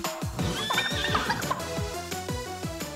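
Horse whisper attack from the Nintendo game Miitopia: a game horse neighs and whinnies repeatedly over busy battle music and sound effects, loud and continuous for the whole stretch.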